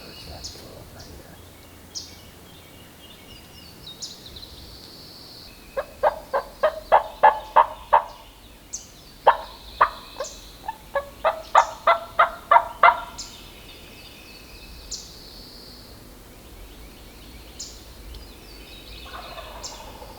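A wild turkey gobbler in the Tennessee woods gobbles repeatedly, several rapid rattling bursts in clusters mid-clip, with other faint bird calls and quiet outdoor ambience around.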